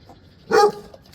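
A dog named Blue lets out a single loud bark in a mower repair workshop, a short sharp burst standing out from a quiet background.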